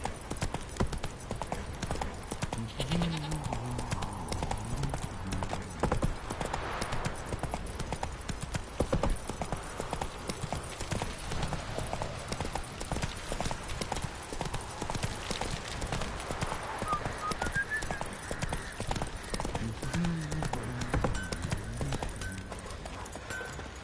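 The horse Roach clip-clops at a steady walking rhythm across ground in The Witcher 3: Wild Hunt, hoofbeats continuing the whole time, with an occasional whinny and faint background voices.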